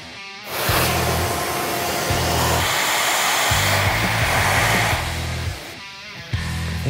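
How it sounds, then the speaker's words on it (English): Shop vac sucking debris out of the inside of a motorcycle engine on a big bore nitrous Sportster, a loud steady close roar whose pitch shifts as the nozzle moves and briefly chokes, with no talk. "get the shop vac out, you know, because who doesn't shop vac the inside of their motor?"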